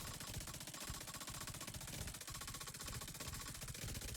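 An LMG fires a sustained, rapid burst of automatic gunfire in The Division 2, with a dense, steady rattle of shots without pause for the full length and no talking.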